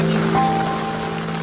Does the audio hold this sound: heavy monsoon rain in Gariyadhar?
yes